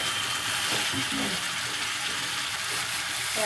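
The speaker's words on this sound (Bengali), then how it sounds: "দেখো আমি গরম জল দিয়ে দিচ্ছি, তো মাংসের ঝোল ঝোল হবে মাংসটা" Hot water poured into a pan of sizzling meat curry (mangsher jhol), giving a steady loud hiss and bubbling throughout, with faint clinks of stirring.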